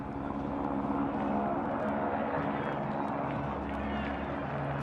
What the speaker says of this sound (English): helicopter buzzing overhead